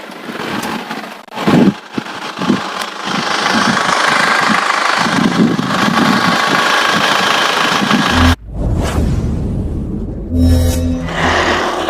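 An open-bay engine idling in a 2002 Isuzu Panther Touring, a loud steady rumble close by that runs continuously, with a brief shift and a few knocking bursts near the end.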